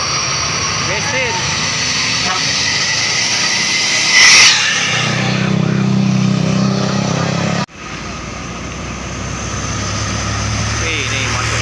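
A roadside bus engine runs steadily at close range under continuous traffic noise, with a higher whine and a brief louder swell midway before an abrupt drop, then the engine rumbling on.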